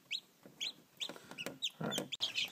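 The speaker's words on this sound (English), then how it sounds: "Alright, there's 2 baby chickens." Newly hatched baby chickens cheep and cluck in short, repeated high peeps close by, alone with no talk.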